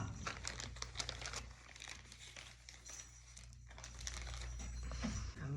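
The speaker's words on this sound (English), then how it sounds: "Taking it out the plastic." A 63-inch YoCosii selfie stick tripod is pulled out of plastic packaging, with close, continuous crinkling and rustling over a low steady hum.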